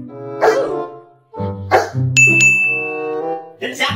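A Golden Retriever gives three separate barks, close and loud, each answering a subtraction problem, with a short bell-like ding between them and some talking around.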